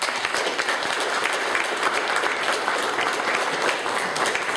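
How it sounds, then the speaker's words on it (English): A seated audience at a startup event claps their hands in sustained, dense applause, loud and even throughout with no voices over it. "So please, again, clap your hands"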